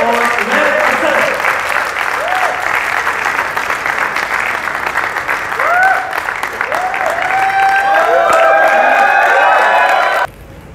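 An audience at a musical performance in Alhamra gives steady, loud applause welcoming a guitarist and vocalist, thick clapping with cheers and whoops rising over it, cutting off abruptly at the end.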